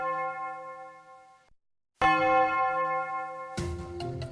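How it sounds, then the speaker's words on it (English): A bell tolling at six in the morning on Eid before prayer: a sustained ringing tone that fades, a short silence, then another loud strike and a clanging third stroke. "The bell tolls at 6."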